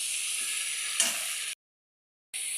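A spice paste frying in a pan with vegetables, a steady close hiss and sizzle with a brief stirring scrape, cut off by a short silence before the sizzle resumes.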